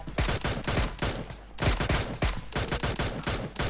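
Rapid bursts of gunfire from a PUBG match, loud and close, with dense overlapping automatic shots in quick volleys and a brief pause midway.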